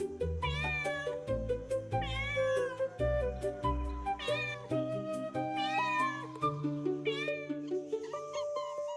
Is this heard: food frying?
no